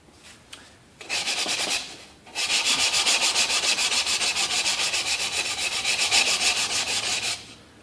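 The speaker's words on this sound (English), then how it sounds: "Sand off any curlicues or anything like that, smooth it out, and there's your snare bed." A snare bed cut into a wooden drum shell is sanded smooth: a short rasping pass, a brief pause, then a long steady run of loud, close, rhythmic back-and-forth rubbing that stops abruptly.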